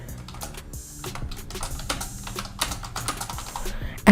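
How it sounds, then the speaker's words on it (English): Fingers typing a poll question on a computer keyboard, a close, steady patter of quick key clicks with small pauses and a louder keystroke at the end. "Enter here quotation mark and type here your text or poll question"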